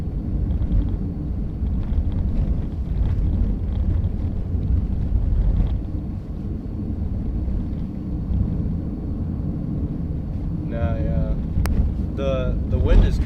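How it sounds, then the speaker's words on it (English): Sustained blizzard wind roars in northern Michigan, a steady broadband rush with low rumble throughout, buffeting the microphone, with brief tonal squeals near the end. "The wind is coming northeast from what I last heard from."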